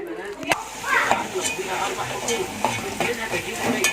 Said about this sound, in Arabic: هنسيبها شويه على النار كده لحد ما السمنه تقدح بقى مع البصله، وهنبتدي نقلب فيها